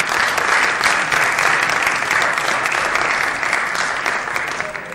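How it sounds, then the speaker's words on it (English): Loud, sustained applause from an audience at an interactive session with Sunil Alagh, a thick continuous clapping roar that tapers slightly toward the end. "Friends, let's have a huge round of applause for him."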